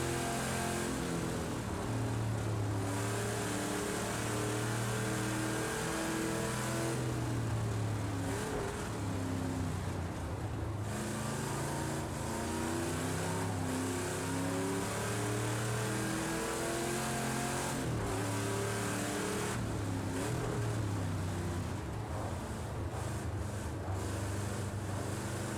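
A Chevrolet Camaro Z/28 V8 races in Project Cars 2, loud and close throughout, its engine note climbing and dropping through repeated gear changes and throttle lifts with no talk.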